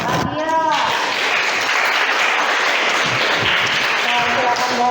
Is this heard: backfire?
no